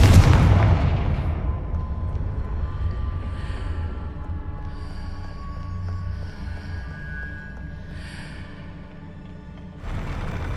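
Confringo fire spell bursting in the Hogwarts Legacy video game, a loud booming blast at the start that rolls off into a long rumbling decay, with faint magical shimmers and a second swell near the end.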